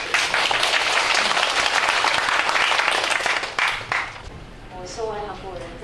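Strong audience applause at a Taipei book talk comparing Taipei and Seoul as a Korean guest speaker is welcomed; full, steady crowd clapping for about four seconds, then tapering off as a voice starts speaking.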